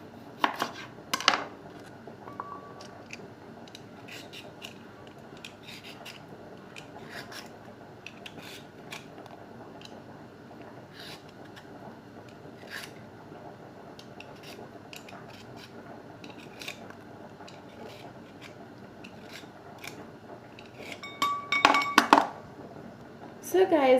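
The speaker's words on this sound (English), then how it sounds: "now with me I have a clean carrot, and I'm going to peel it" A clean carrot being peeled in a home kitchen while cooking a Swahili potato dish: soft, faint scraping strokes repeat steadily in the background, ending with a louder burst of clattering near the end.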